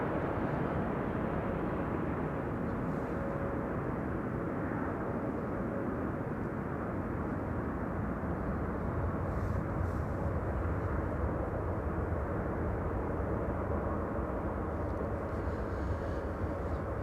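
A Transavia airliner arriving from Tirana at Amsterdam Schiphol Airport makes a continuous, loud, broad jet roar that stays steady throughout with no voices.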